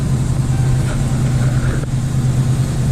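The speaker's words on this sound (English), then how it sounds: "Idling pretty high." A Chrysler 300 engine idles after an exhaust modification, a steady low rumble with a constant droning hum, fairly loud and close, with no talking.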